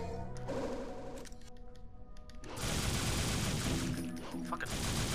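Pistol gunfire in Devil May Cry, rapid bursts of shots cracking in quick succession amid game effects, loud and close, shifting into a denser barrage near the end.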